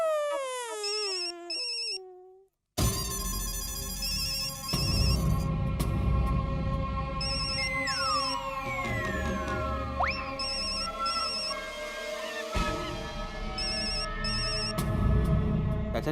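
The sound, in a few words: phone ringing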